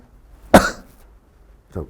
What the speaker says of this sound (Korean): 기침이 나와서 죄송합니다